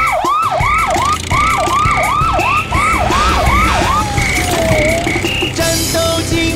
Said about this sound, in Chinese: 战斗警报声响起，警车全速出击。